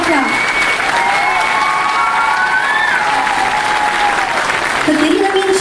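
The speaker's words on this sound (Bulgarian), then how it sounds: "моля още веднъж за вашите аплодисменти за Иляна Пичурова" An audience claps for a dancer at the end of a stage performance: sustained, loud, dense applause from a crowd with faint cheering, while voices and a tonal sound carry over the clapping.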